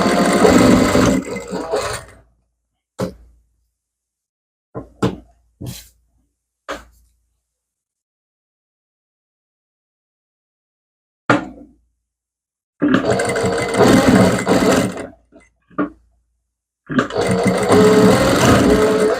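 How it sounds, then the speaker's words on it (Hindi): A sewing machine stitches fabric for a spaghetti blouse in short loud bursts, several quick taps and longer whirring runs separated by silent pauses. "उसी के ऊपर हमें ये कपड़ा रख के स्टिचिंग लगा देनी है"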